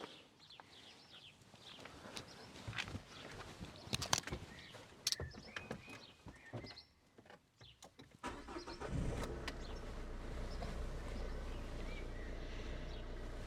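A Renault Kangoo van's 1.5-litre diesel engine cranks and catches after some quiet clicks and rustling, then settles into a steady, rumbling idle.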